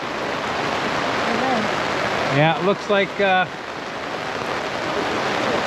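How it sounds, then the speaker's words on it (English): Heavy rain pours down steadily at a beach, heard from under an umbrella as a dense, constant hiss, with a few brief spoken words cutting through midway. "the rain is coming down."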